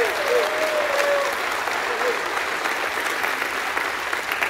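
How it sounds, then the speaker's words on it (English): Congregation clapping in praise during a church service, a continuous wash of applause with a shout rising briefly near the start, holding steady and moderately loud to the end. "Give him a hand clap and a shout of praise."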